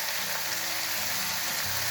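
Spice paste sizzling and frying in a pan while cooking Kerala-style fish, a steady close hiss throughout with a slight change near the end, no talk.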